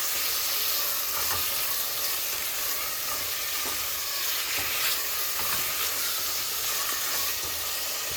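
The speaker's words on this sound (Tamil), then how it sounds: "இதை போட்டு சிக்கனை கொஞ்சம் வதக்கி விட்டுட்டு நம்ம உருளைக்கிழங்கு சேர்த்துக்கலாம்." Chicken sizzling steadily in a hot pan for a coconut milk chicken stew, a continuous close frying hiss with occasional faint stirring scrapes, no voices.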